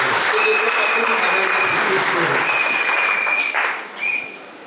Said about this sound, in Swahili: Chapia Yesu makofi na kitu.